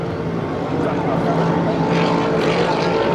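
Hydroplane racing boat from the Napa Racing team accelerating hard down the straight during a Hydro350 heat at Beauharnois, a steady loud engine roar filling the clip beneath a commentator's voice.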